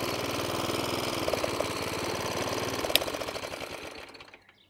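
A vintage Atco Deluxe 14B lawn mower with a 1970s Suffolk iron foundry engine ticks over at a fast, even rhythmic putter, close and clear, then winds down and fades near the end.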